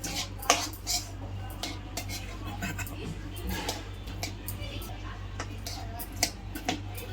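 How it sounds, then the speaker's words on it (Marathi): Roasted peanuts being stirred for peanut ladu in a pan with the heat off, giving light, irregular clinks and scrapes of a utensil against the pan, fairly quiet and close. "आपण याला चांगलं मिक्स करून घेऊ मिक्स करताना गॅस बंद ठेवावा"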